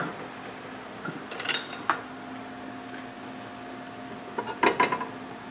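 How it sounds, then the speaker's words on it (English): Noodles tipped into a pan of beef stroganoff, giving two brief clusters of clattering pan and utensil knocks over a low steady hum, close and fairly quiet, with no talking. "So now we are going to add our noodles to here."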